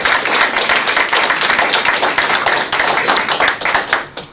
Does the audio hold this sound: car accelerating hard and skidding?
no